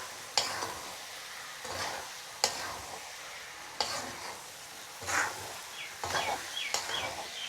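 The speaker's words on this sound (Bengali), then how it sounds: "এখন আমি এখানে ডালগুলো দিয়ে দেব। এখন আমি আরও কিছুক্ষণ ভেজে নেব।" Mung dal tossed in hot oil in a home kitchen pan, with repeated stirring scrapes every second or two over a soft, steady sizzle, close and moderately loud.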